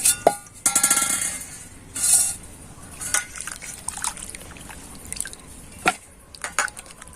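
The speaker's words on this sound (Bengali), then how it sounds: "আমি আরও একবার তোমাদের দেখানোর জন্য খুব ভালো করে ধুয়ে নিচ্ছি" Potato slices washed by hand in water, with splashing, dripping and hollow knocks against the bowl, close and moderately loud.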